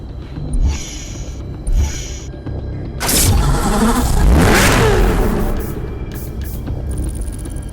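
McLaren 12C engine revving in Need for Speed Hot Pursuit Remastered: a couple of short blips, then a loud, sustained rising roar that holds and slowly settles to a steady idle, heard alone with no talk.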